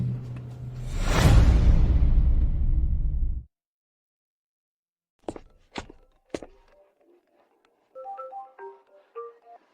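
A phone ringtone plays during a call, a short bright melodic pattern near the end, preceded by a loud rushing whoosh and a few sharp thuds.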